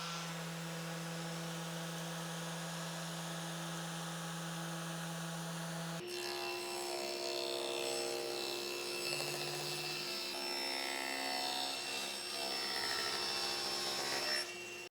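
A saw cuts a glued-up wooden tabletop down to size, giving a steady, loud mechanical whine with a constant hum underneath and no talking.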